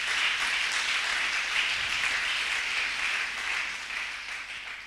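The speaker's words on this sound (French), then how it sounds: "Tobeteli nkolo maboko." A church congregation applauds the Lord, with steady, dense clapping from many hands filling the room at moderate loudness, fading slightly toward the end.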